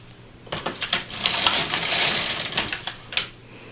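A Silver Reed LK150 knitting machine carriage sliding across rows, a close mechanical clatter of rapid clicks and whirring swells that rise and fall with each pass.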